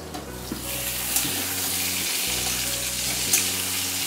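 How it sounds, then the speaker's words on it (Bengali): Pointed gourd (potol) pieces fry in oil in a covered pan, a close, continuous sizzle and hiss with faint periodic hums underneath and no talking. "ঢাকা দিয়ে দিয়ে আমি পটলগুলো ভালো করে ভেজে নিচ্ছি।"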